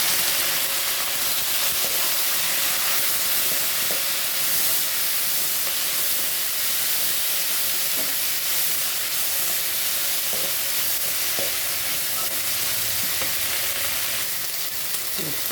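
Moringa leaves frying in hot oil in a pan, giving a steady, loud, even sizzle with faint pops and stirring scrapes throughout, no voices.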